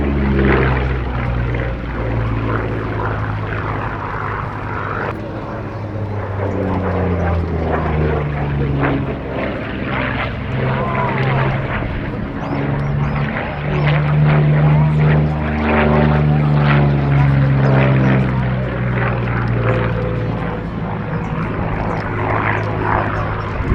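A World War I propeller aircraft flies at an airshow with a loud, steady engine drone and changing pitch as it passes, continuous throughout.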